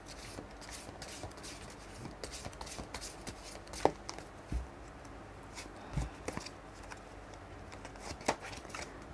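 Tarot cards shuffled and drawn by hand at close range, soft papery riffles and flicks with a few sharper taps as cards are laid down, faint and quiet without talk.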